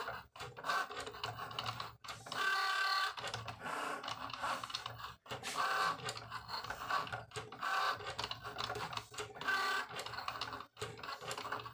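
A cutting plotter slices t-shirt vinyl with a steady, quiet mechanical whir of carriage moves and short stepping bursts, broken by brief pauses as the blade changes direction, heard alone without talk.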